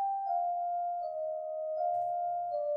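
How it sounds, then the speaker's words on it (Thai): Clear glass-like chime from the Incredibox game, a steady pure bell tone that holds and shifts slightly in pitch, sounding alone and moderately loud for nearly three seconds. "ตัวนี้แบบเสียงใสๆเสียงเหมือนแก้วในกลาสนะครับในถ้ำอ่ะ"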